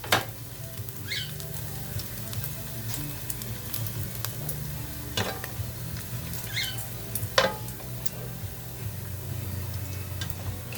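Bacon frying in rendered grease in a pan, a soft continuous sizzle with scattered pops and ticks, close but fairly quiet.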